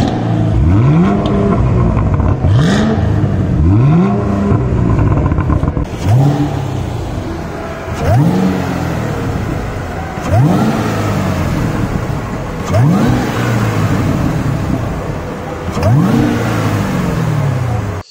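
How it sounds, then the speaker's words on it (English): Exhaust notes of a Cadillac CT5 and CT4 on display at a motor show, engines revved repeatedly; loud, close, rising-and-falling revs in a regular series of about eight bursts with no talk. "a compilation of the exhaust sounds of both the CT5 and the CT4"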